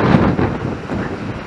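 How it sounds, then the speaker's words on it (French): Strong gale wind buffets a sailboat at anchor in a sheltered Norwegian harbour, a loud, continuous roar with rushing gusts and low rumble filling the whole stretch. "C'est le deuxième gros coup de vent qu'on subit en Norvège depuis qu'on est arrivé"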